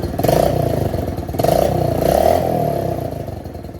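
A pit bike engine idles loudly up close with a burbling, uneven rumble, swelling in brief revs before settling.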